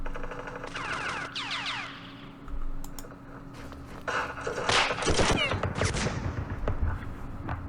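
Gunfire bursts from the Middle East wargame's Battle of Port Said, with rapid crackling volleys and sharp shots clustered in the second half, mixed with faint interface chirps and a quiet voice in the background.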